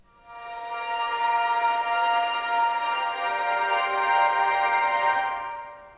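A bright synth pad swells in softly and sustains a shimmering, airy chord for several seconds, even and smooth throughout, then fades slightly at the end, heard on its own.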